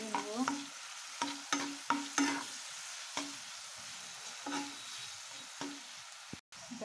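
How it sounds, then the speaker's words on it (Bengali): Onion, garlic and green chili fry in oil for a mashed-leaf vorta. A steady soft sizzle runs under repeated close spatula scrapes at an irregular pace, about ten strokes in all. "তেলের মধ্যে পেঁয়াজ রসুন কাঁচামরিচ সব দিয়ে দিলাম। এখন এটা আমি সুন্দর করে ভেজে নেব।"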